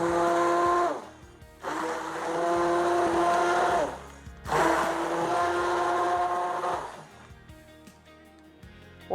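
A blender whirs loudly in two long bursts, its motor pitch shifting as it runs, with quiet pauses between and after.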